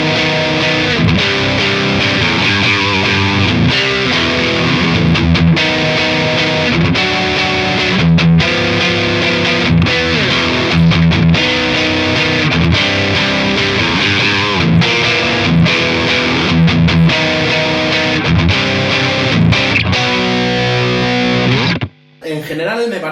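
A Danelectro 59 NOS+ electric guitar played through distortion on its middle pickup setting, loud and continuous with dense chords and riffs for over twenty seconds before cutting off abruptly near the end.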